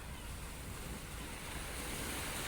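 Waves on a Greek shore after rain wash in as a soft, continuous broadband surge, faint and distant, with some wind noise and no talking.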